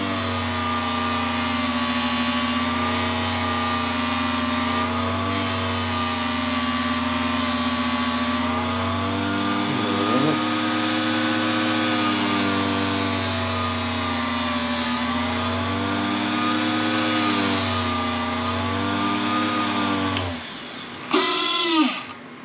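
A steady electric motor drones for about twenty seconds as a buffing wheel polishes a handmade Texas mesquite wood ring dressed with wax, then cuts off, leaving a brief clatter at the end.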